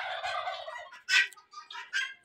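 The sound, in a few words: turkeys gobbling on a farm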